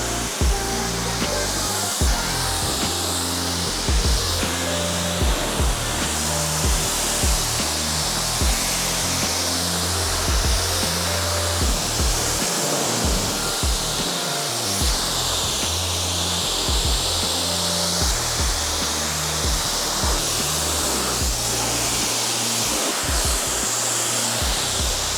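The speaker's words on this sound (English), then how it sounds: "That's the snow foam on there, now it's time to rinse it off." Water spray rinses snow foam off a car, a loud, steady rushing hiss close to the microphone, with a low thrumming pump or pressure-washer rumble pulsing beneath it the whole time and no voices.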